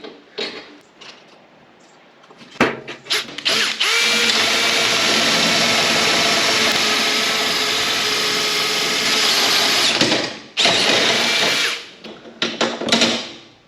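A power drill bores through steel in a farm workshop, a loud close grinding whine holding steady for several seconds, with clanks and handling knocks before and after it.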